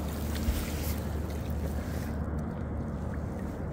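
A fishing kayak is paddled on open Pacific water, with a steady wash of moving water and wind rushing close by and no distinct separate strokes.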